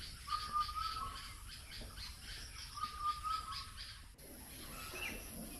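Various birds call in the green Raidak forest of Alipurduar in the morning, faint distant chirps and whistles repeating over a soft, steady outdoor background with no talk.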